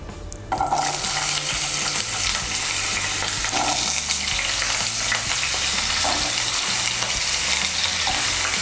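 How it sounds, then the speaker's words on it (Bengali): Small potato pieces fry in hot white oil in a wok, a loud steady sizzle that starts abruptly and holds with occasional stirring scrapes underneath. "এর মধ্যে আমি প্রথমে আলুগুলো ভেজে নেব।"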